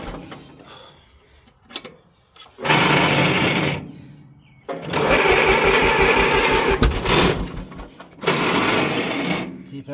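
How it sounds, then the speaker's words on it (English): A weak starter cranks a 1940s International bulldozer engine in three loud sustained bursts of rapid mechanical churning, separated by brief pauses, with some talking between the bursts. "And the starter's bad."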